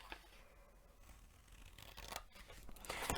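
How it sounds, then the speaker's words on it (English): Scissors snipping paper along vertical score lines while making a desk caddy craft project, a few crisp close cuts that build in loudness toward the end. "You're going to cut up these bottom vertical score lines as neatly as you can."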